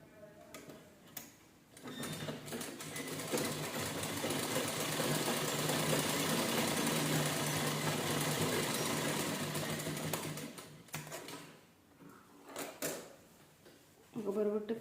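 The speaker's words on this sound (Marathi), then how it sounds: "याच्यानं तिरकी शिलाई करून घ्यायची" A sewing machine stitches the back neck of a blouse, a close, steady rapid ticking hum lasting about eight seconds, with soft handling noises and a voice before and after.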